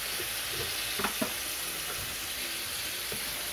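Pork for binagoongan hits a hot pan and fries with a loud, steady hiss and crackle, close by, with a couple of faint stirring clinks and no talk.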